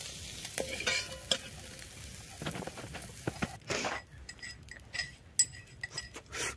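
Prawns fry in a pan for a Bengali echor chingri dish: a steady sizzle with scraping stirs and sharp metallic clinks of the spoon against the pan, fairly close.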